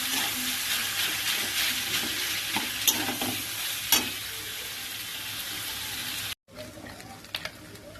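Rice and vegetables with soybean frying in a pan, a steady loud sizzle with stirring scrapes and clicks, cutting out briefly near the end before resuming more quietly.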